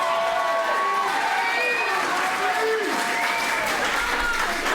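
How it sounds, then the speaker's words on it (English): Small crowd at a slap fight event cheering and clapping steadily throughout, a dense continuous roar of applause and voices with a commentator speaking over it. "Got a great crowd tonight."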